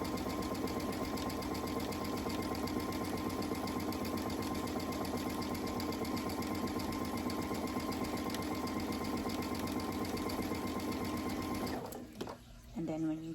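A sewing machine hums and stitches steadily at close range while stitching skirt pleats in fabric, running continuously before stopping near the end; a voice talks over it.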